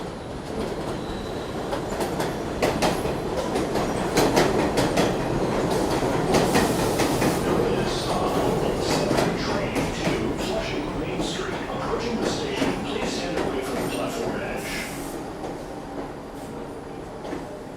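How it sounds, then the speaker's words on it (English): A New York City N subway train rumbles past in Queens on a July evening, loud and close, with rattling wheels, clacking rails and high metallic squeals over several seconds, voices faintly underneath. "there's a train coming"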